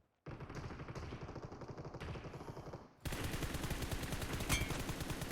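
Rapid automatic gunfire rattles nonstop in a PUBG Mobile firefight: a steady burst, a brief pause, then a denser, louder stream of shots that runs to the end.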